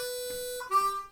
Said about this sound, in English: So it's just a clean 3-hole bend that should sound quite poppy to you